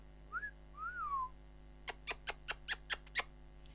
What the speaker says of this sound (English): all day long, he does the wolf whistle or the woo woo